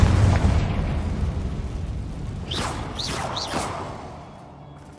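A fiery spell explosion in the video game Hogwarts Legacy booms loudly at the start and fades into a rumbling decay, followed by a few rising whooshing swishes.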